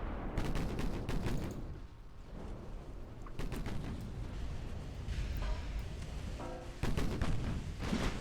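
Naval gunfire from warships in the Ultimate Admiral: Dreadnoughts battle game, with a steady barrage of booming shots and overlapping blasts, loud and continuous, and several heavier salvos standing out.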